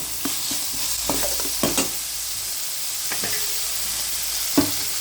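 Ground mint rice masala of onion, garlic, fresh ginger, cumin and pepper sizzles steadily in a pan, with close, intermittent scraping and clinking from stirring over the continuous frying hiss.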